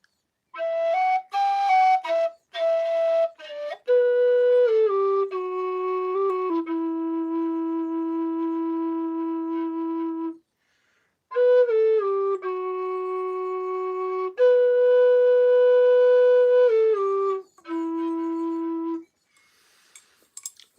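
A Kerry D tin whistle plays a lively tune alone, bright sustained notes with quick ornaments and short breaths between phrases, close and clear.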